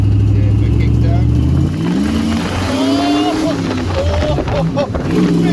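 An LS-swapped Jeep CJ engine on a 1-ton build revs hard under acceleration, its loud rising drone dipping and climbing again as the transmission kicks down, with excited voices over it.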